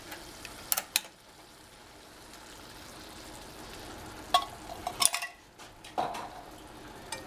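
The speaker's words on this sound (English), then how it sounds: "Get that all stirred in." A spoon scrapes and clinks in a pan as canned soup is worked into a sizzling roux, quiet steady frying hiss punctuated by several sharp metallic taps and knocks against the pan, with no talking.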